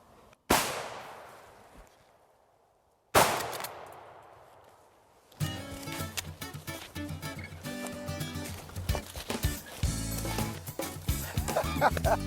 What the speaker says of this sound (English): Did you know you was getting 2 in one shot when you pulled the trigger?